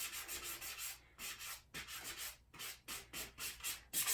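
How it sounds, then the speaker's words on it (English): Sandpaper rubbing back and forth over a painted wooden box, in steady strokes with short pauses between passes, close and clear with no talking. "So take your sandpaper again, and you just sand away on that, and it starts showing up."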